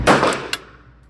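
A single sharp shot from an ASAI One Pro .45 ACP pistol fired double action, loud and close, with a brief echoing decay and a small click afterward.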